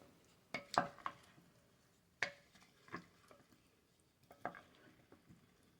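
Olive oil being stirred into an avocado salad in a bowl, heard as a handful of soft, scattered scraping and clinking strokes of a utensil with quiet pauses between them.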